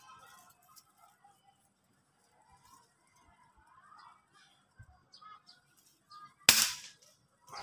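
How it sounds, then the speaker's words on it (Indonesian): A single sharp crack from an FX Impact air rifle fired at a target 30 to 50 meters away, heard once near the end after quiet outdoor ambience with faint birds. "Tembakan kedua, sekarang yang ketiga."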